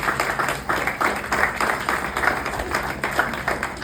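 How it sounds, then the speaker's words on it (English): An audience at a campaign rally gives a sustained round of applause, with dense clapping holding steady across the whole moment. "Give her a round of applause."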